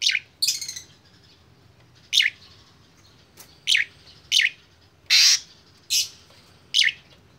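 A newly bought, tame songbird chirps indoors, sharp bright calls repeated one after another with short gaps, close and fairly loud over a quiet background.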